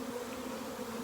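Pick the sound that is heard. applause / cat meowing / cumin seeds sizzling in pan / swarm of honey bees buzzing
swarm of honey bees buzzing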